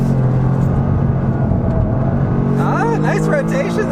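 A 2025 Toyota GR Corolla DAT drives a slalom, its engine a steady low drone with shifting pitch, and a voice talks over it near the end.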